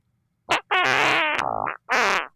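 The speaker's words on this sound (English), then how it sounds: "we got some fart sounds." A fart sound effect plays as three separate bursts: a short squeak, a long wavering blat, and a final medium-length toot. They are loud and close, with no talk over them.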